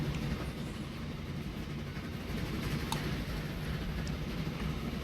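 A train rumbles steadily along the rails in the Train Fever video game, a continuous moderate roll with a faint click or two and no voices.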